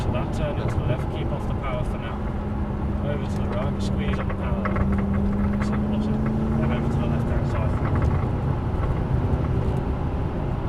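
A McLaren 570 runs on a racetrack, its engine a steady drone with a slowly rising tone beneath continuous talking in the cabin.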